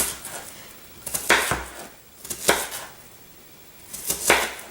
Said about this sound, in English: You chop your onion.